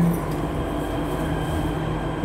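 Jakarta MRT metro train running into a station, a steady loud rumble of wheels and motors with a constant tonal hum throughout, no voices.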